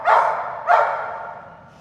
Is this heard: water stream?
no